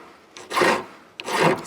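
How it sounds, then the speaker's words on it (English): A file rasps across a metal ring to shape it half round at a jewellery bench, in two slow, close strokes separated by a short pause, with no voices. "So now you're filing it half round"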